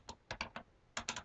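Short burst of typing on a computer keyboard, a few quiet close clicks, a brief pause, then four quicker keystrokes, alone without speech.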